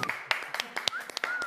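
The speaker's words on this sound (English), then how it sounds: "then you guys are going to stop clapping" An audience at an acoustic performance claps, with sharp irregular claps of a small crowd close by and scattered amid faint background voices and a brief whistle-like tone.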